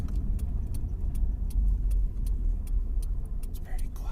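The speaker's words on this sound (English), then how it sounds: "Looks like a fire truck." A fire truck rolls past on a street, a steady low engine rumble close by with scattered light clicks and rattles over it.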